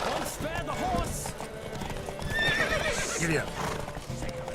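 Galloping hooves and several whinnies from racing horses in The Witcher 3, close and fairly loud throughout, with someone speaking over them.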